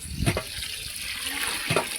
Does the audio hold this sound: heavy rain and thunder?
no